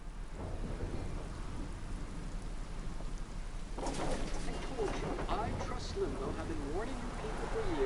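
A thunderstorm in the video game Life is Strange gives constant heavy rain with rumbling thunder that swells partway through, and a voice speaks over the storm.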